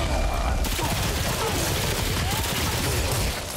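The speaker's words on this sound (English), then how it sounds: "And I have automatic weapons" A steady, loud stream of automatic weapon fire from the video game Remnant 2 runs unbroken through the whole short stretch, dense and close, tapering slightly at the very end.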